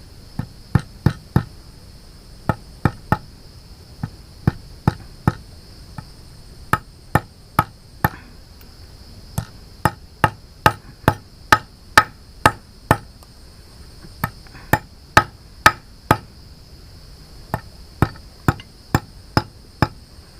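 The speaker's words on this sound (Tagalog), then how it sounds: "Konting pukpok na lang, ayos na to." Sharp hammer blows strike a concrete nail in irregular bursts, some quick doubles, nearby and loud against a faint steady hiss.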